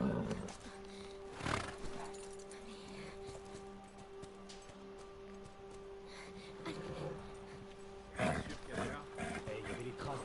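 A horse neighs in The Last of Us, a loud whinny near the start and another near the end, with game ambience and music beneath.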